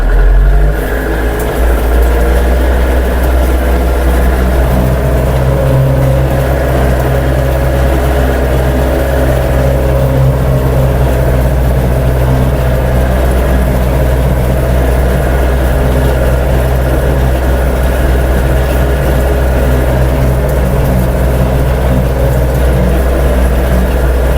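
A Scout 404 walk-behind tractor drags an Unia plough through garden soil, its engine droning loud and close with a deep steady chug that holds unbroken throughout.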